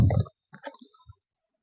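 Tarot cards are laid out on a surface, giving a quick close shuffle and then a few soft, separate papery taps and clicks that fade into silence.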